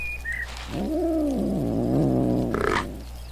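A sleepy cat creature in the game Black & White 2 purrs with a low, rumbling, drawn-out tone that rises and falls over a steady background hum, alone without talk.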